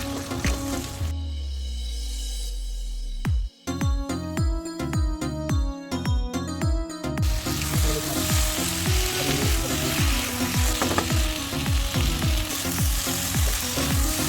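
Fish curry masala with turmeric for a bata fish, potato and pointed gourd curry fries in a pan with a dense ongoing sizzle and repeated stirring clicks, under rhythmic background music with no speech.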